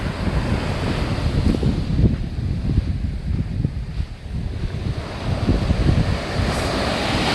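East Sea waves break and wash onto Wonpo beach in Yangyang, Korea, a rolling, continuous roar of surf mixed with gusty wind buffeting the microphone, loud and close, with no voices.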